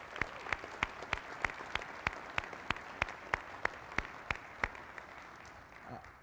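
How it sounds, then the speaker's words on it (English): Applause at a graduation ceremony for ALS Class 18-2: one close pair of hands claps sharply in an even rhythm above a softer, steady crowd applause that tapers off at the end. "So another round of applause for Chief Hewson."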